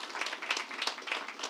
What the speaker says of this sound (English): A round of applause for the leadership team.